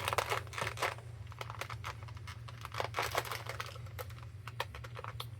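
Packing tape is ripped off a toy package in a series of quick crackling, tearing bursts, fairly quiet and close over a low steady hum.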